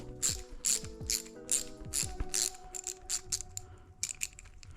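Ratchet wrench clicking in quick bursts as bolts are backed out on a new Ventus V1+ electric bike, a series of close, sharp pawl clicks with short pauses between strokes and no talking.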